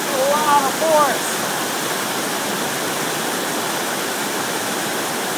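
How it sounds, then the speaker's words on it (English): Water swirls in a hydrocyclone vortex during testing as a loud, steady rushing flow, with a brief voice at the start. "We already got a strong vortex established."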